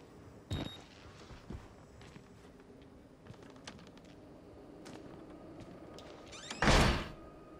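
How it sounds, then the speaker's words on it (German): A door swung shut inside an asylum in the horror game Outlast, ending in a loud thud, preceded by scattered creaks, knocks and faint clatter in a quiet interior. "machen wir erstmal die Tür mal zu"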